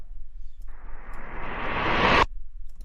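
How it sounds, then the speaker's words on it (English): A cinematic whoosh transition effect from a movie swells steadily from about two-thirds of a second, rising in brightness and loudness before cutting off abruptly, alone over a low background hum. "It's kind of a cool transition sound."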